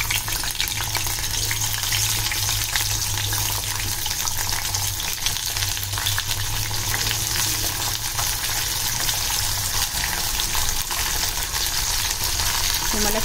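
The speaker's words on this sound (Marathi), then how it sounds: "तेलामध्ये सुरणाचे काप फ्राय करून घेते" Slices of suran, elephant foot yam, fry in hot oil with a loud, unbroken sizzle and crackle heard up close throughout.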